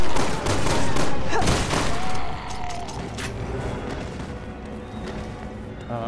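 Gunfire in Resident Evil 6 co-op: loud, dense bursts of shots crowd the first two seconds, then the firing thins to scattered cracks over a lingering rumble, with players' voices in the mix.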